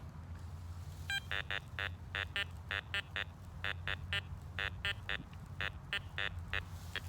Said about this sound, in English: you can definitely hear the low tone of it